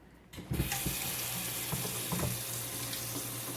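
Hands are washed under a running kitchen tap while preparing meat, a steady close splash of water starting abruptly after a moment of quiet, with faint clinks and handling sounds underneath and no talking.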